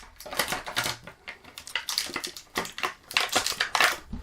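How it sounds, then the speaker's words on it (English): Plastic bits being snipped off action figure packaging, a quick series of sharp, close clicks and crunching snaps in irregular bursts, fairly quiet and without talk. "let's go and cut off these little pieces on here"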